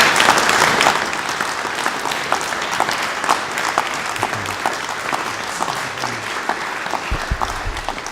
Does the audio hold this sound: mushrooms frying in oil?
no